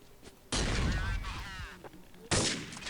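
Counter-Strike 1.6 gunfire: two loud, close bursts of shots with a sharp onset, the first ringing out for over a second, with a brief voice murmuring between them.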